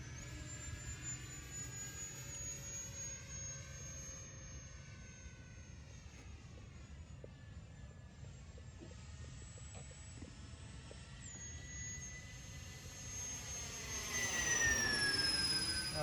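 A Phoenix 90mm Preceptor RC model jet flies vertical climbs and pull-outs, its ducted-fan whine sweeping up and down in pitch as it passes, steady and fairly distant, swelling louder near the end.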